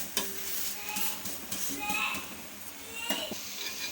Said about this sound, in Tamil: மெதுவாக எடுத்து திருப்பி போட்டுக்கலாம் அடுத்த சைடும் ரெடி ஆகட்டும்